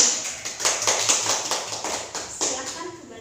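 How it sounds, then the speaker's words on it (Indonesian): Classroom clapping for two student groups, a small crowd of hands clapping close by in a loose, uneven rhythm with distinct sharp claps, with some voices underneath. "Beri tepuk tangan untuk kedua kelompok ini."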